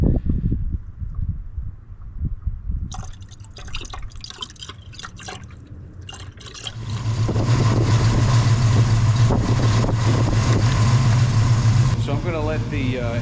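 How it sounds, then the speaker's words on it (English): A 1967 Pontiac Firebird engine idles while warming up: quieter drips and handling noises come first, then a steady, droning low rumble settles in for the second half. "I'm going to let the engine warm up with the cap loose"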